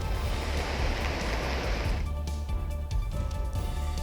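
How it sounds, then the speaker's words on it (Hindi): Swollen flood water roars through a rain-fed stream channel where a truck is stuck, a loud, steady broadband rush that stays continuous throughout, its texture shifting slightly about halfway through, with no voices. "तेज बहाव अपने साथ एक पूरी कार को बहाकर ले जाने की कोशिश में था।"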